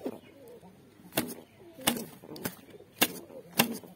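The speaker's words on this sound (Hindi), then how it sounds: "वो मेरा सिराजी कबूतर है, वो देखिए गाइस।" A Siraji pigeon coos softly at close range, with several sharp clicking or flapping bursts spaced about half a second to a second apart over low background noise.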